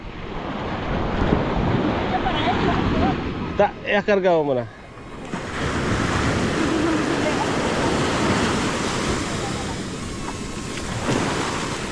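Sea waves wash onto the shore at San Juan, La Union, a broad rushing roar mixed with gusty wind buffeting the microphone, briefly broken by a short sharp disturbance before the surf resumes, with people talking nearby.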